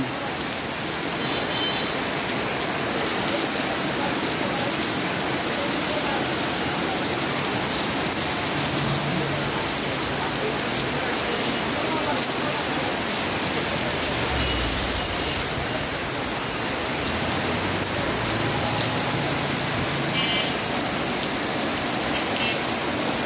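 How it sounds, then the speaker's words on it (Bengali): Heavy rain pours steadily in Natore, a dense, unbroken hiss of water on surfaces that stays loud and even from start to finish, with no voices. "বৃষ্টি থামতিছে আর হচ্ছে। সেই পরিমাণ বৃষ্টি, সেই পরিমাণ নাটোরের সেই পরিমাণ বৃষ্টি।"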